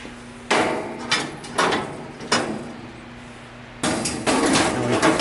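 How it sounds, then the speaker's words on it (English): Stainless steel grates are set into a Members Mark five-burner gas grill, giving several loud, close metallic clanks and scrapes at uneven intervals over a steady background hum, with no talking. "And we put the grates in."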